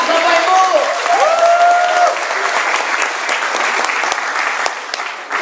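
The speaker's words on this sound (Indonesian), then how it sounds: "beri aplaus buat Ahuda" Steady, loud applause from a seminar audience at a business presentation in Jakarta, sustained clapping filling the room throughout, with a few whistled or cheered tones rising over it early on.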